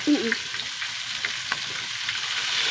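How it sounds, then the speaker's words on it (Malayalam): Green chilies, garlic and ginger sautéing in a pan make a brief, moderate sizzle with faint stirring taps, and no speech. "പച്ചമുളക് വെളുത്തുള്ളി ഇഞ്ചി ഇടുമ്പോൾ വഴറ്റി"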